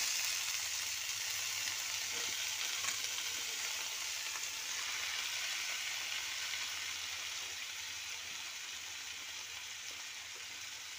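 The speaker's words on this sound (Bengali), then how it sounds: "কালো জিরে ফোড়ন দিলাম, ফোড়নটা একটুখানি ফ্রাই হয়ে গেলে তারপরে আমরা এর মধ্যে শাকটা দিয়ে দেব।" Nigella seeds tempering in hot oil in a pan before radish greens go in, a steady bright sizzle and crackle that holds evenly for about eleven seconds and eases slightly toward the end, with no talking.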